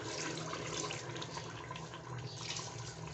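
Water is poured into a pot of browned meat for aloo gosht curry, a continuous rushing splash that holds steady throughout.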